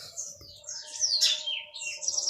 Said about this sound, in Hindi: अभी भी यहाँ पर चिड़ियों की आवाज़ें हैं बट फाख्ता नहीं है।